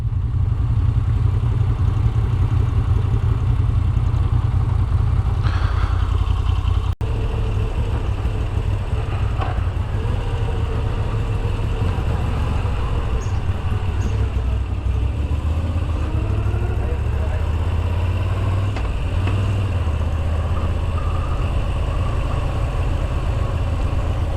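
A Moto Guzzi motorcycle engine idles nearby with a steady, deep, continuous rumble that holds for the whole stretch, with no voices over it.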